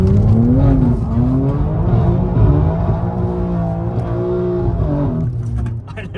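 A BMW M3 drifts on a narrow Scottish Highlands road, its engine revving hard and loud with rising and falling pitch. The tires scrub as it slides, and the sound tails off at the end.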